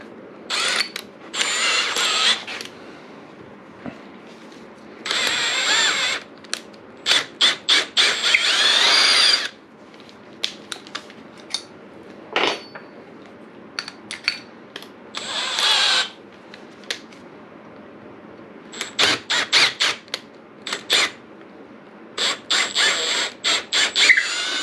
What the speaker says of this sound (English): and then I'm gonna use the router